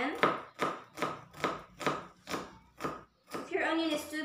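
A knife slices through an onion on a cutting board in about eight evenly spaced, crisp chops, close and clear, with a brief rustle of handling at the end.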